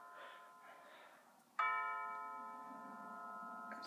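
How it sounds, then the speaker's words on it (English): A Rhythm mantel clock striking its chime: after a soft, quiet stretch, one loud ringing tone sounds out suddenly and slowly fades away, close by, with no talking over it. "So that is how the clock chimes."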